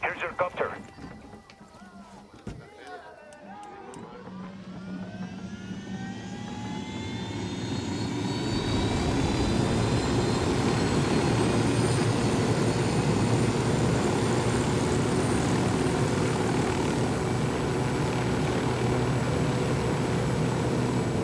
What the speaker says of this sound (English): Here's your copter.